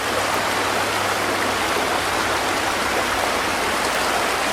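Creek water in Oak Creek Canyon, Sedona, Arizona, rushes steadily over large rocks, making a loud, continuous broadband roar with no voices.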